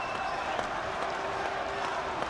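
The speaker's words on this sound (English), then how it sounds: "Crowd try and lift him." Boxing crowd at Paul Appleby's fight against Joseph Laryea, a steady roar of cheering and voices rising to lift their fighter, with light clapping mixed in under continuous arena noise.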